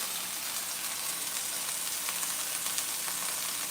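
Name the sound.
ground beef sizzling in pan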